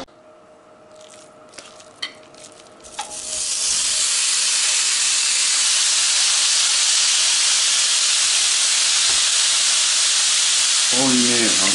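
A pan heating on the stove before meat goes in: a few faint clinks, then a loud, steady steam hiss that swells in and holds to the end, with a little clatter at the close.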